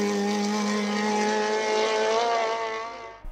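A Simca Rally 3 race car at a hill climb, its engine holding a loud, steady high-revving drone close by for about three seconds before cutting off abruptly at the end.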